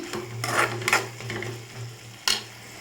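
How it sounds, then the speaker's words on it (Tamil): Tomatoes, onions and ginger-garlic paste sauté in a pan for an egg thokku, with a continuous gentle sizzle broken by a few sharper spoon scrapes and stirring bursts, up close and without talk. "நமக்கு தக்காளி வெங்காயம் நல்லா வதங்கிட்டு இருக்கு பாருங்கள்"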